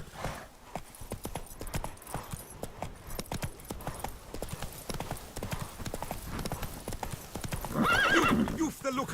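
Horse hooves clip-clop in a steady, rapid rhythm during riding in the video game The Witcher 3, close and continuous, with a neigh toward the end and game voices talking over the hoofbeats.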